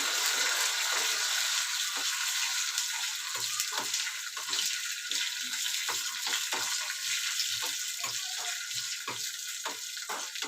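Cumin and mustard seeds hit hot oil while jowar appe are being made, giving a continuous close, bright sizzle dotted with sharp crackling pops throughout, with no talking.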